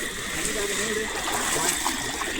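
Water in a stream in Belagavi flows with a continuous close trickling and bubbling, steady throughout the short stretch.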